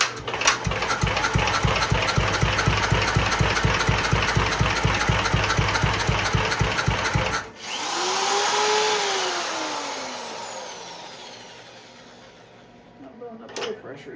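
A 1963 Gravely tractor engine runs with a loud, rapid, even idle for several seconds, then cuts out abruptly, leaving a falling whine that fades away.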